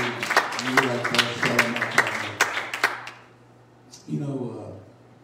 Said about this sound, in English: Will you clap your hands up to the Lord?